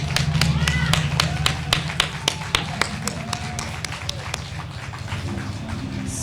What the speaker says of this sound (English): Can we please give all of our speakers another round of applause?